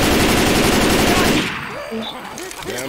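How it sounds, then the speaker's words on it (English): Rapid, dense automatic gunfire in the zombie shooter game Left 4 Dead 2 roars loudly for about a second and a half, then cuts off, leaving quieter game sounds and voices talking. "I'm trying to shoot the zombies."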